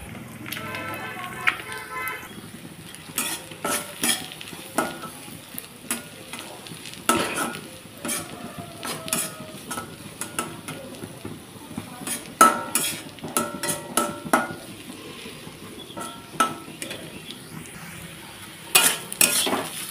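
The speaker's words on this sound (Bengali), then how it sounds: "ডিমটাকে আমি একটু ভালোভাবে ভেজে নিচ্ছি।" An egg fries in a pan for a snake gourd dish, a steady crackling sizzle broken by repeated sharp scrapes and knocks of a spatula against the pan, with faint talk in places.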